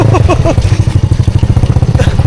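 A motorcycle on a rough, extreme forest road near a logged hillside runs loud and close, its engine pulsing in rapid, uneven beats with rattling clatter.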